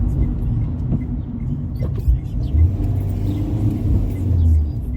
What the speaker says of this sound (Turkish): Şu anda şurada, şurada sağda bir yere çekeceğim arabayı.